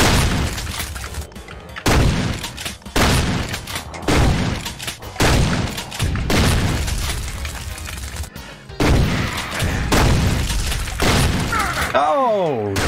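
Shotgun blasts and explosions in the video game Doom come as repeated loud, heavy booms in quick succession, mixed with game mechanisms and effects, ending in a warbling electronic tone.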